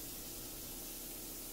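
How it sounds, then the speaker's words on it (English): Steady close hiss of a paint spray gun misting across the tops of drawers, an even continuous spray running without pause and with no talk. "I will come back with the spray and do a horizontal spray and go across the top of every single drawer"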